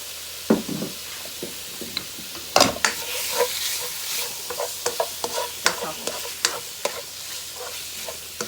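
Chicken sizzling in a small amount of oil in a pan, with a steady fry hiss broken by repeated utensil knocks and scrapes as the pieces are stirred, heard up close.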